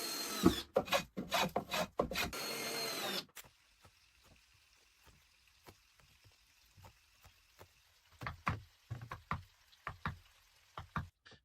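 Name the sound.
hand planing wooden floor planks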